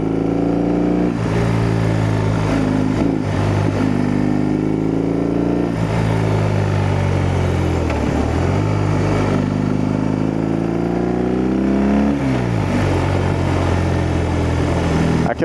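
BMW R18 Transcontinental motorcycle cruising through the Rocky Mountains, its engine droning steadily and close with periodic shifts in pitch as the rider changes speed, over a constant wind rush.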